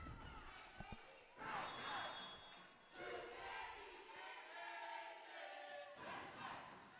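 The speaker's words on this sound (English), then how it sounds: "Xavier's cheer team trying to apply some pressure on Chloe Paul." A cheer team shouts in bursts during a women's college volleyball match in a gym, crowd voices and a sharp ball thump mixed in.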